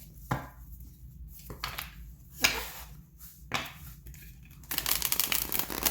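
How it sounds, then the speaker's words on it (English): Tarot cards are shuffled in several distinct, crisp riffling bursts spaced about a second apart, close up in a quiet room, ending in a longer continuous shuffle. "as I'm shuffling the cards"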